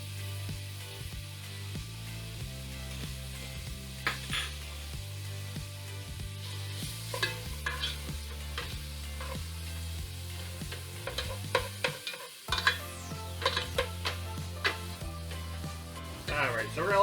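Noodles and cabbage sizzle in butter in a pan for haluski, with a steady frying crackle broken by the repeated scrape and clatter of stirring.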